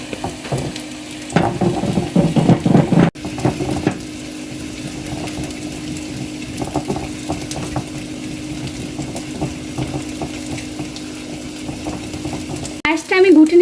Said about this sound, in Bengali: দেন আমি ঘুটনি দিয়ে পায়েসটা ঘুটে দেব।